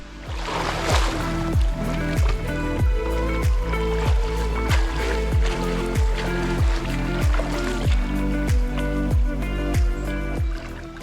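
Swimming in the Psel river gives repeated rhythmic splashes and strokes close by, a steady train of water slaps running throughout under broad rushing noise, with no speech.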